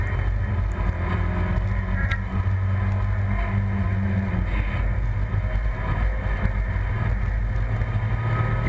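A Mazda MX-5 race car accelerates at full throttle on the Nordschleife near Breitscheid, its engine a steady loud in-cabin drone mixed with wind and road roar across the whole stretch.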